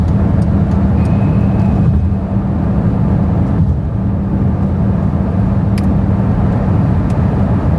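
A car cruises along a highway and passes a truck, with a loud, steady road and engine roar from inside the cabin, small tonal shifts as it overtakes, and no speech.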